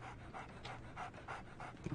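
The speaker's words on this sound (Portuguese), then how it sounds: "So, Barnes has a dog now." A dog in a Sherlock Holmes video game pants in quick, rhythmic breaths, close and fairly quiet, with no speech over it.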